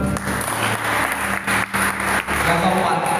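A church congregation applauds for God, a broad wash of clapping from a crowd in a large room, interrupted by short gaps, with a voice speaking over it.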